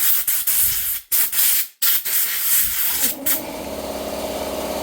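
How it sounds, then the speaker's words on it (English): Close, loud hissing blasts of an air blowgun blowing off a cleaned flywheel in short bursts, followed by the steady hum of an air compressor starting up. "hit it with a blowgun."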